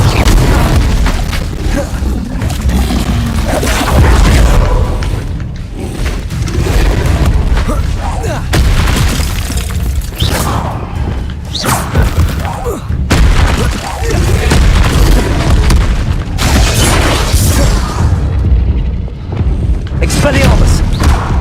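Incendio fire spells blast repeatedly in the video game Hogwarts Legacy, loud booming bursts and rumbling impacts that stack densely over twenty seconds with a voice talking over the gameplay.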